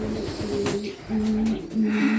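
Young pigeons, including Bagdad, carrier and opal types, give repeated low, throaty coos in close, clear phrases with short gaps between them.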